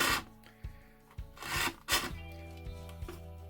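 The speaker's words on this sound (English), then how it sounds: "I really don't want to go through the cable, so just use a round file." A round file rasping back and forth to enlarge holes while fitting a cordless vacuum charging point to a wall, several close scraping strokes separated by brief pauses.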